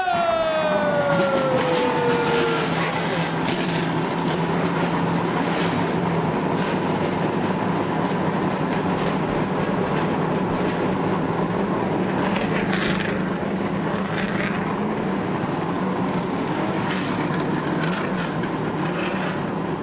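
Stock car engines fire up at the 2001 Budweiser Shootout at Daytona, a loud, continuous, dense roar with a rising whine early on, sustained evenly to the end.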